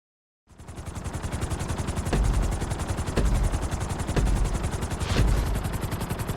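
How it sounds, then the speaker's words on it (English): A helicopter in Grand Theft Auto V roars continuously with a dense, steady engine and rotor drone, punctuated by several sharp thumping bursts spaced about a second apart. "we're going to put you in a helicopter for this lesson"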